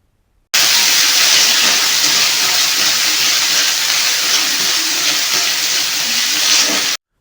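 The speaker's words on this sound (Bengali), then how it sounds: "দিয়ে ভালো করে মশলাটা ভাজতে হবে" Ground spice paste frying in a pan with black gram lentils, a loud, steady sizzling hiss that starts abruptly and holds for several seconds without speech.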